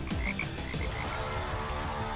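Frog croaking sound effect: a quick series of close, rhythmic croaks over a low rumbling background, with no voices.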